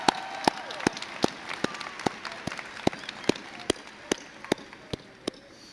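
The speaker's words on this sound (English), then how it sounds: "Let's give them a round of applause as well." A small number of people clap at a university commencement ceremony, sparse separate hand claps landing roughly twice a second over a faint room background.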